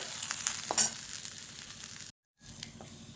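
Field beans (pavta) dry-roasting in a pan give a steady crackling sizzle with scraping stirs, cut by a brief silence before the roasting noise resumes.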